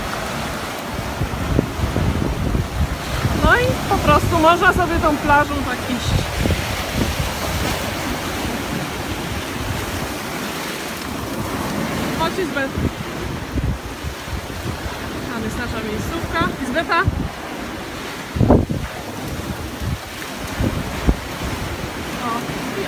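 Surf rolling onto an English beach below cliffs, a broad steady wash with gusty wind buffeting the microphone throughout, while someone talks and calls a dog over the noise.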